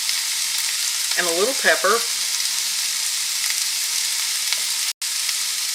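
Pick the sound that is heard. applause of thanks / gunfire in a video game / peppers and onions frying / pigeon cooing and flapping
peppers and onions frying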